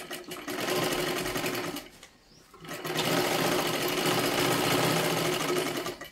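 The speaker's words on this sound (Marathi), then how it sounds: "एक डबल शिलाई मारत मारत आपल्याला घ्यायची आहे." A sewing machine runs steadily while double-stitching the sleeve of a princess-cut blouse, loud and close, with a brief slowdown near the middle before it picks back up to a continuous whir.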